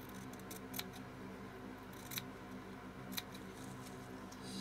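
Scissors snip through a piece of material in three quick, quiet cuts spaced a second or so apart, over a soft, steady background hum.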